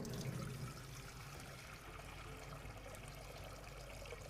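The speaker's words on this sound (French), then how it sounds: "Je mets de l'eau." Water pours into a pot for cooking sweet potatoes, a steady, faint rushing stream that runs continuously throughout.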